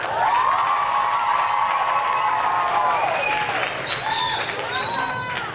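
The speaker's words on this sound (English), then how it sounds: "Give them a round of applause." Audience applause for students at a school instrumental music event, steady dense clapping with some cheering throughout, while a voice speaks over a PA system and whistles or high tones rise above the crowd.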